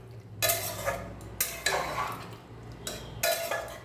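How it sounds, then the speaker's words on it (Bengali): A spoon scrapes and stirs papaya and potato curry with chopped coriander leaves in a pot, giving three loud bursts of clattering scraping at a slow, uneven rhythm with a low steady hum underneath. "এবার ভালো করে একটু মিশিয়ে নিচ্ছি।"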